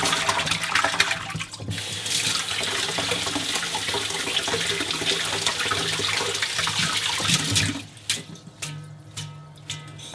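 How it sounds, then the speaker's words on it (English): Running tap water pours steadily over about a dozen perilla leaves being washed in a sink, a loud continuous splash that cuts off near the end, leaving a few quieter drips and handling sounds. "These perilla leaves, I like to wash"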